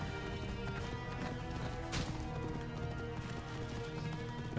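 Horse hooves gallop in a quick, continuous rhythm in the video game Assassin's Creed: Origins, over a dense layer of game music and effects, with a sharp whoosh partway through.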